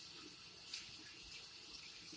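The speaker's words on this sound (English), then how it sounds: "So we'll fill that up, some hot water." Hot water pours steadily into the tank of a Hoover wet vac carpet cleaner, a continuous hissing, splashing stream heard close up and alone.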